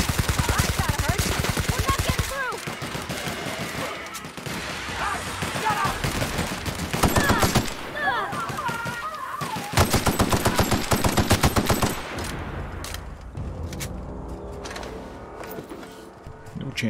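Automatic gunfire from a firefight in the video game The Outer Worlds, loud, rapid bursts running almost continuously, with game sound effects and a voice talking over parts of it.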